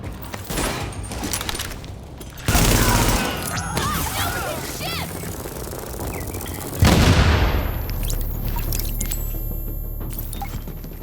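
Gunfire from Tom Clancy's The Division fills a chaotic firefight with sustained volleys, loud booming impacts and explosions, and a constant rumbling background of battle noise.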